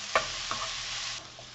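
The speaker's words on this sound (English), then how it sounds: "So just toss in your ground beef and break it up a bit. And we'll just cook that all together." Ground beef and onions cook in a pan with a steady sizzle and a couple of short scraping stirs as the meat is broken up, close and moderately loud, with no talking.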